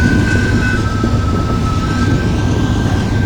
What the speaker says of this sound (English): Okay, that was a really long train.